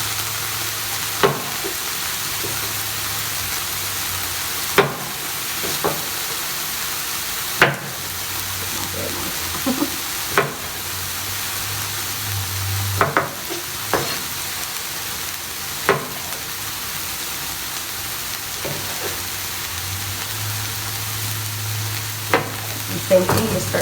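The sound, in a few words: vegetables sizzling and being stirred in a frying pan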